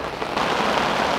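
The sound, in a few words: heavy rain at a river while fishing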